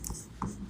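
Brief strokes of writing on a board during a math lesson, a few soft close scratches in quick succession with no speech.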